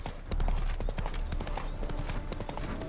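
Hooves of a horse clip-clop steadily at a walking pace in The Witcher 3 video game, close and continuous over dense outdoor ambience.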